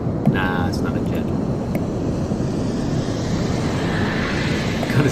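Roaring, rumbling eruption of the La Palma volcano in Spain, a loud continuous jet-like roar with wind buffeting, holding steady throughout with slight surges.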